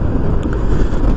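Strong wind buffets the microphone in a continuous loud low rumble outdoors, steady and close, with no speech.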